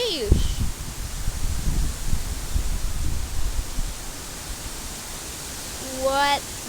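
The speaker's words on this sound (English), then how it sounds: "Why would it be so windy?" Strong wind roars across the microphone on a windy day outdoors as a loud, steady broadband rush, while a person talks and exclaims over it.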